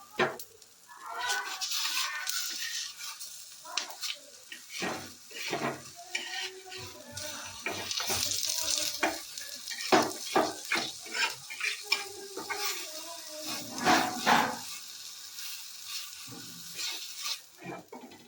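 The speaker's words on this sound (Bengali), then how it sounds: "আর ফ্রাইটা করার জন্য আমি এবার দিলাম একটুখানি ঘি।" Sweet mango patishapta frying in a little ghee in a pan gives a soft ongoing sizzle, with a spatula scraping and tapping against the pan in irregular strokes, close and moderately loud.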